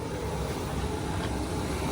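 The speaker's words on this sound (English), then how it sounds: "the blower motor makes some noise" Steady, broadband rush of air from the rear blower fan of a Nissan NV3500 passenger van running on high, a constant close whooshing roar with no variation or voices.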